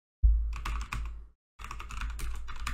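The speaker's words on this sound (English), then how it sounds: "you're going to type in your Gmail account" Rapid keystrokes on a computer keyboard come in two short close bursts separated by a brief pause, crisp clicking with no talk.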